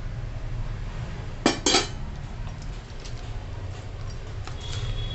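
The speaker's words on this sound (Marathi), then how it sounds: "आता आपण 2 चमचे तेलाचं मोहन टाकू आता याच्यामध्ये, भज्यांच्या पिठामध्ये, आणि आता मिक्स करून घेऊ" Spoon working two spoonfuls of oil into gram-flour bhaji batter in a bowl, heard as a brief cluster of metallic clinks and scrapes midway through, with a steady low kitchen hum around it.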